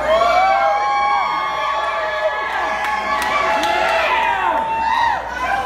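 An audience at a live show screams and cheers, many overlapping high voices whooping loudly and continuously, some shouts rising above the dense roar of the crowd.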